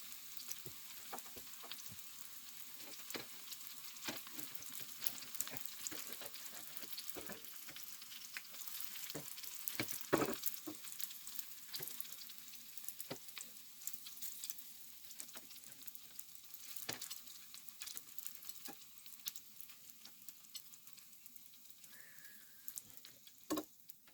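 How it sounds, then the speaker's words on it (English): Daisy fritters shallow frying in oil, a steady crackling sizzle with dense popping ticks throughout, close but fairly quiet. "That's a shallow fry, it's not a deep fry."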